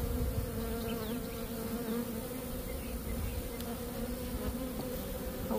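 Honey bees in a queenless hive, freshly stocked with nurse bees, buzz in a continuous close hum, with occasional individual bees passing nearby and no talking.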